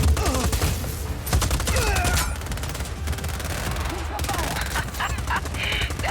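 Missiles launching in Just Cause 4 amid dense, loud game combat, with rapid bursts of fire and explosions crowding one another throughout, and a voice talking over part of it.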